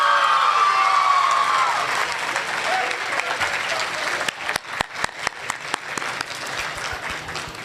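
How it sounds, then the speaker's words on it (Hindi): Audience applause at a mushaira poetry gathering, a dense sustained clapping from a large crowd that thins into scattered individual claps toward the end, with a brief whistle or cheer near the start. "एक बार अपने शहर के लिए ताली बजाएं"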